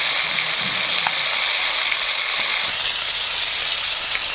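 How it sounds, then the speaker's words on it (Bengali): Pond fish frying in a pan, a loud continuous sizzle with bright crackling hiss and faint stirring scrapes, close and unbroken throughout. "চলছে ভাজাভাজি স্টার্ট হয়ে গেছে।"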